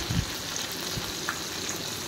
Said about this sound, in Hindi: गरम हो गला आम 2-3टा कंचा लंका काटिकी एमती मझीरू रखी कंचा लंका को तेल रे पकईदेवा